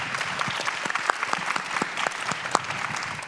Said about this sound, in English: Can we have a round of applause for our panelists here?